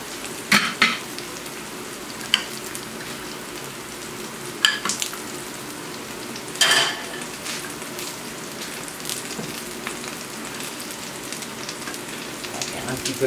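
Potato rösti with herbs frying in fat in a pan, a steady soft sizzle with occasional louder crackles and pops over thirteen seconds.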